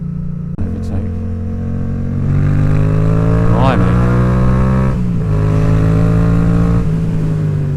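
A Yamaha XSR700 motorcycle with its exhaust baffle removed revs up and accelerates on a country road with a loud, raspy exhaust note, pitch climbing and dropping between shifts, close by.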